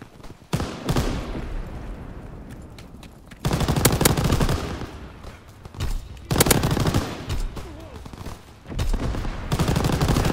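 Machine gun fire in Call of Duty: WWII multiplayer, heard as long loud sustained bursts that start and stop over several seconds with gaps between them, close and intense.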